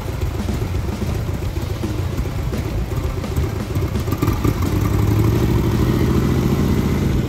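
A turbocharged Harley motorcycle engine runs close by and is revved repeatedly, the rumbling drone climbing louder and higher in the second half, with no talk.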